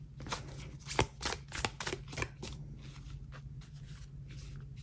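A deck of tarot cards is shuffled by hand in a quiet room, giving close, crisp riffling bursts with sharp slaps, busiest in the first half-second and then settling into softer, steady card rustling.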